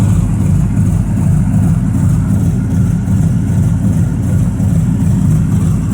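A BMW engine in a T-bucket hot rod, fitted with supercharger adapters and new injectors, runs steadily just above idle, producing a continuous, even, low rumble close by with no talk over it.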